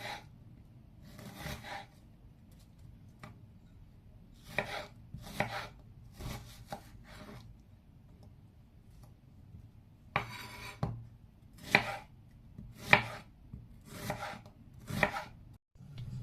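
Onions are carefully chopped with a knife on a cutting board for Georgian kharcho, with short bursts of crisp chops separated by pauses, then faster clustered strokes, close and clear.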